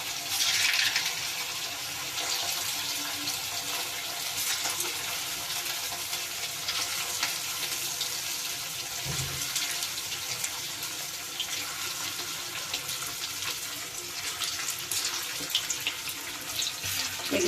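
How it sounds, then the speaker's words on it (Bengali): Chicken balls fry in hot oil with a continuous, even sizzle and crackle, heard close up and without talk. "এবার আমি এগুলো আস্তে আস্তে কয়েকটা ছেড়ে দেবো তেলের মধ্যে।"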